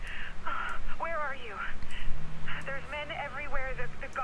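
A phone call in the Watch Dogs video game, with voices coming through a narrow, filtered telephone line over low game ambience and a few warbling, tonal passages.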